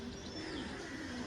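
A pair of Kaldama pigeons, male and female, cooing softly in a steady low murmur that runs throughout, with faint chirps above.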